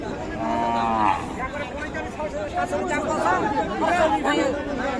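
A cow moos loudly up close at a cattle market in Raniganj, followed by more lowing amid a busy crowd of people chattering in the background.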